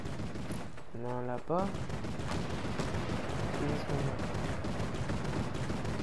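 Fortnite battle royale gunfire rattles in scattered bursts and pops under constant game background noise, while someone speaks briefly in French.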